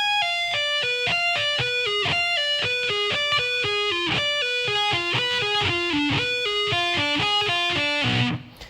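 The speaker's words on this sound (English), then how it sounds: "all those arpeggios together should sound like this" Fast electric guitar arpeggio lick, played with distortion, with rapid cascading notes stepping up and down in a steady flowing rhythm before ending on a pull-off and fading, loud and alone.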